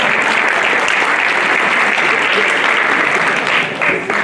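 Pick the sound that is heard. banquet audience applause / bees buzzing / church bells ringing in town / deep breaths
banquet audience applause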